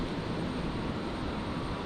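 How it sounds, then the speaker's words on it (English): Qantas Airbus A330 at Brisbane Airport: a steady, distant broadband roar of jet engines, a continuous rumble with no voices. "One of the Qantas 330s."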